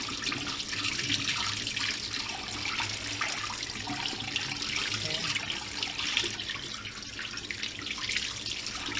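Water runs steadily from a tap, splashing and trickling over a BMC air filter held under the stream, a continuous close, soft wash with no talking.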